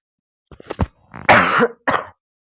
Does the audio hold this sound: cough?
yes